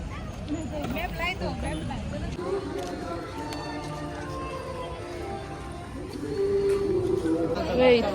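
A dense crowd murmurs at the Old Goa church feast, a busy outdoor babble of many voices with a dog barking briefly, while a nearby voice talks over the hubbub.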